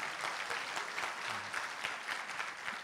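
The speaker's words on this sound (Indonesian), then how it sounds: "Yang setuju tepuk tangan yang keras buat Yesus." Congregation clapping for Jesus during a morning prayer service, a continuous wash of hand claps at moderate, somewhat distant level, with a faint brief voice partway through.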